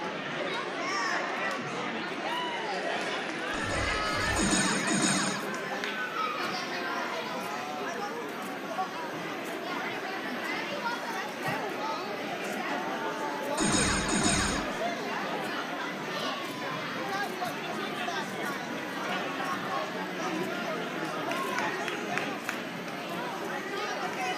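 A crowd cheers and chatters at an elementary VEX IQ robotics tournament, a continuous busy babble through the whole stretch, with an announcer talking over it and two short bursts of louder noise.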